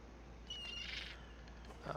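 Seagull cry in the fantasy strategy game Lords of Magic, a thin, bright call with a short tonal whistle over a low steady game ambience, fairly faint and without talk.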